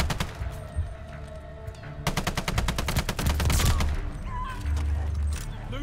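Loud rapid bursts of KG M40 rifle fire in the shooter Call of Duty: Vanguard, a tight rhythmic volley in the middle amid background game noise and faint voices, despite a fitted suppressor.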